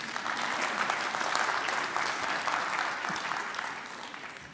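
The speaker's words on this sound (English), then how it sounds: "Go ahead, you can clap if you want." A lecture audience at a talk on the brain breaks into sustained applause, a thick, even crackle of many hands that holds steady and tapers slightly toward the end.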